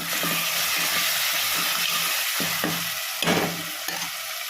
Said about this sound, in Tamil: உப்போடு சேர்த்து போட்டோம்னா நல்லா காய் நல்லா சீக்கிரமாக வதங்கிடும்